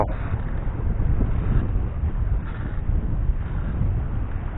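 Strong wind buffets the microphone on a fishing boat out at sea on the Gulf of Thailand coast under a rainy sky, a steady loud roaring rush lasting throughout with no voices.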